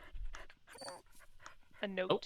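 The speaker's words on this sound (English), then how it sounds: "Yep, that's a dog." A dog named Champ, just woken up, pants and whimpers in short bursts close by, mixed in with people talking.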